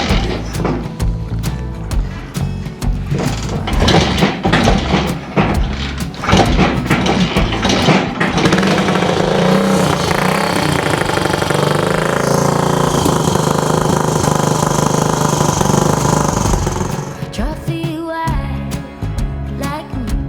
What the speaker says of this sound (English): One kick, one kick. This thing wants to run.